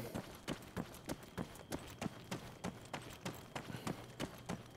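A soldier character's boots running in ARMA III, steady quick footfalls thudding at a regular pace, close and clear over a faint low hum.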